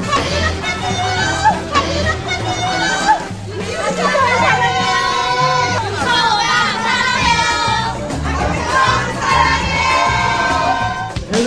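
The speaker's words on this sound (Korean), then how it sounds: "해외 팬들의 환호가 쏟아지는 등 등장부터 남달랐는데요" A crowd of overseas fans cheers and screams for Park Yuchun, a dense, high-pitched wall of shrieks and shouting that swells and surges throughout.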